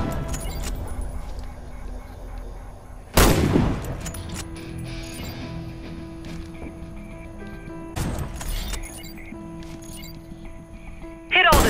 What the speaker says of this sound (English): Hit all the targets with your Sniper Rifle.